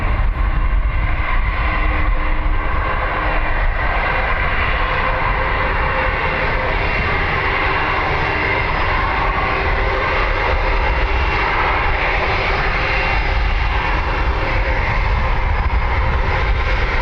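Jet airliner rolling for takeoff on runway 10R at Dublin Airport, a steady loud broadband engine roar holding throughout with no break, heard from a spotting position.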